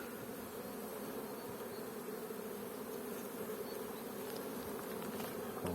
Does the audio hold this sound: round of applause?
no